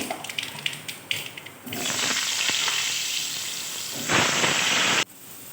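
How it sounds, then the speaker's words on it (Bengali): Potatoes dropped into hot oil with nigella seeds after frying aubergine, erupting into a loud, steady sizzle that swells once more before cutting off abruptly. "বেগুনটাও লাল লাল করে ভেজে আমি তুলে নিলাম ওই তেলে দিয়ে দেবো সামান্য কালো জিরে দিয়ে দিয়ে দেবো আলু"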